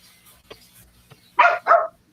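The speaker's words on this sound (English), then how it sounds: "I heard the dogs going off." Dogs in a house bark twice in sharp, loud bursts close by, after some faint thumps and rustling.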